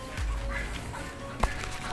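Chickens cluck softly and intermittently, recovered from snot and snoring respiratory illness and now feeding eagerly, with one brief louder knock midway and a low background murmur throughout.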